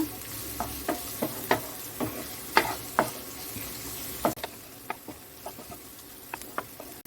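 A spoon stirs a green-chilli masala mixture in a pan while making idiyappam, giving a string of close, irregular scraping clicks over a low sizzle, with no voices.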